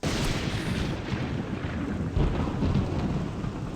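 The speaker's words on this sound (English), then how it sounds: "Oh, it's raining." Heavy rain and low rolling thunder in Morrowind, a continuous deep rumble with steady hiss, swelling louder midway, with no voices.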